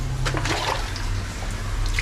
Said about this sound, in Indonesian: gue mau lihat ada toilet yang kita coba siram